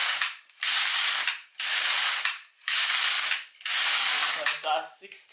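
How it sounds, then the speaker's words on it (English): An LK150 knitting machine carriage knits a sweater sleeve, sweeping back and forth in four long, loud, raspy ratcheting passes with short gaps between them. "Okay, let's continue knitting."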